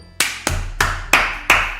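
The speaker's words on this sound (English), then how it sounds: "The four of us applaud." Applause in Doki Doki Literature Club comes as five sharp, evenly spaced claps, loud and close, with no voices over them.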